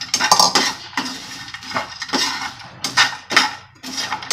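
Colocasia (taro) pieces are tipped into a pan and stirred for a taro fry, giving a run of close, clattering scrapes and clinks of utensil on metal in uneven bursts, with no voices.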